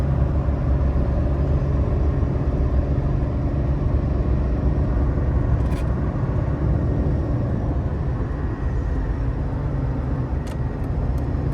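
Toyota Aygo 1.0 VVT-i heard from inside at 100 km/h in fifth gear: a steady low engine drone and road rumble, constant and moderately loud, with a couple of faint brief clicks.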